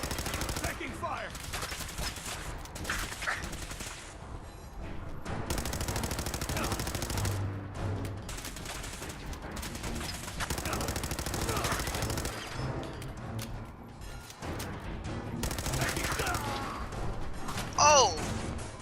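Sustained automatic gunfire in the Fallout 4 video game, dense rattling volleys with crashes running almost nonstop, a voice briefly heard amid the shooting.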